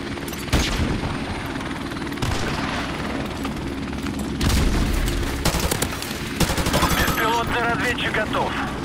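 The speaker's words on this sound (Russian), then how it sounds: "Вертолет союзников вылетел!" An allied helicopter in Call of Duty: Modern Warfare 3 thrums loudly throughout, overlaid by repeated machine-gun bursts and sharp booms, with a brief voice near the end.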